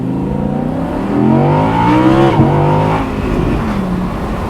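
An Audi R8 Spyder's engine pulls hard from inside the cabin, a loud, rising mechanical roar with climbing tones that peaks and then eases slightly, steady and close with no talk.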